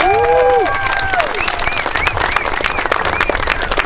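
A crowd applauds at the Tehachapi Police Department's pickleball court grand opening ceremony, sustained clapping outdoors with bright whistling tones rising and falling early on, holding at an even level throughout.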